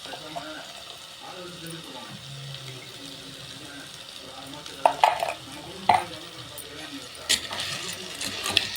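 Crab pieces sauté with turmeric powder in a clay pot, a low, steady sizzle under sharp stirring clatters and scrapes, with a voice talking in the background.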